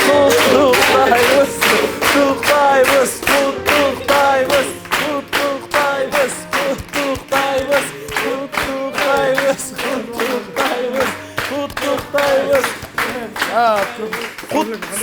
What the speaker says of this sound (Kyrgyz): Кол чаап коелу, келиңиздер, жалпы.